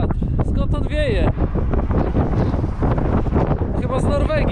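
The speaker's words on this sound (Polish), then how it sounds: "No dzisiaj wiatr rządzi." Strong wind buffets the microphone while cycling, a loud continuous roaring rumble throughout, with a voice speaking under it.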